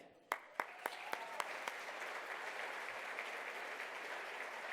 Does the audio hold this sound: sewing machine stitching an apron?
no